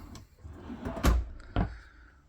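Drawers in the front bathroom of a 2026 Cedar Creek 383FB RV slide and thump shut, with two distinct knocks about half a second apart after softer sliding and rattling, close by and without talking.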